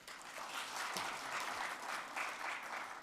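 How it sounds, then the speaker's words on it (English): Audience applause for the governor at an annual symposium, steady broadband clapping from a crowd sustained across the whole stretch at a fairly even level. "Another round of applause for the governor, please."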